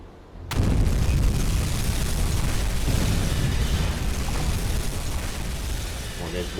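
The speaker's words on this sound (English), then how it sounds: "Looks like we might have had a dud there as well, but that torpedo hit." A torpedo striking a ship in a U-boat submarine video game sets off a loud, sustained explosive roar that bursts in abruptly after a brief quiet moment and rumbles on without letup.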